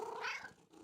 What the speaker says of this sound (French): Maman et Caillou entendirent un miaulement discret